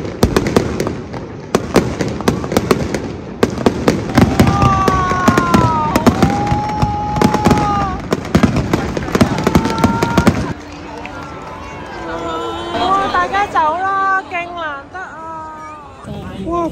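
Fireworks exploding overhead near the Sydney Opera House, a loud close barrage of rapid crackling bursts for about ten seconds, then quieter scattered pops with whistling and excited voices of a crowd underneath.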